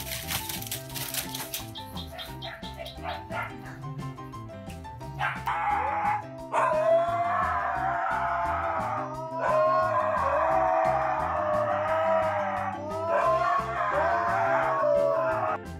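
A husky barks, yips and howls in a long run of close, loud calls with rising and falling whines, over a rhythmic background music bed.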